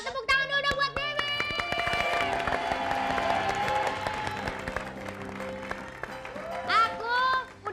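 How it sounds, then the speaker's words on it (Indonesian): An audience at an Indonesian TV comedy show applauds, the clapping mixed under bright musical tones and voices, then a louder swell near the end. "Yang pertama tepuk tangan dulu buat Mimik."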